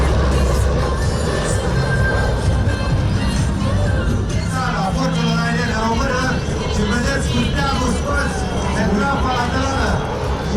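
A C-130H Hercules military transport plane makes a pass at an airshow in Bucharest, Romania. Its heavy, continuous propeller drone rumbles loudly throughout, with a voice talking over it.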